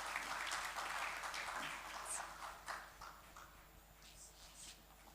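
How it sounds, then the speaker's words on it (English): Audience clapping to welcome a speaker at a university event, moderately distant and fading somewhat toward the end, with a few sharper claps standing out. "Please welcome him with a warm round of applause."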